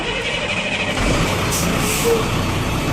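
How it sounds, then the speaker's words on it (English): A Class A CDL truck engine runs as a loud, steady, broadband rumble heard from inside the cab during a pre-trip inspection, swelling slightly after the first second. "very first thing I want you to do is start the truck"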